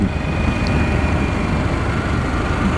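A Harley-Davidson Pan America motorcycle engine-braking downhill on a winding mountain road gives a steady, loud, close rumbling drone mixed with wind roar, unbroken for the whole stretch.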